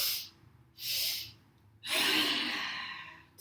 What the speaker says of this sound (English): Making a noise on the exhale.